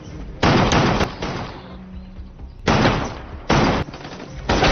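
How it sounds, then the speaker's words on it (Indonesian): Bursts of rapid automatic gunfire from an armed group in a movie action scene, loud dense volleys in three or four bursts separated by short lulls. "Sam dikejutkan dengan kemunculan sekelompok bersenjata yang langsung memberondong mereka dengan peluru."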